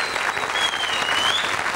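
A studio audience at the 1993 Glücksrad game show applauds in steady, dense clapping throughout, with a faint whistle-like tone running over it.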